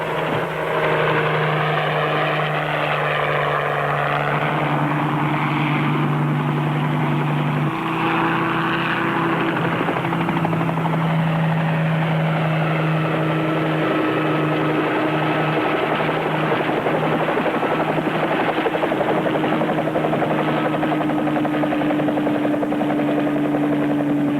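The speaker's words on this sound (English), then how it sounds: "Helen, tell them we'll touch down in front of their office. Helicopter 38 Bravo out" A helicopter in flight drones steadily and loudly throughout, its rotor thrum and engine whine continuous with slight shifts in pitch.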